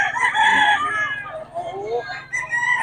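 Roosters and hens at a weekly Friday chicken market where new sellers bring birds: close crowing and clucking mixed with busy market chatter and voices.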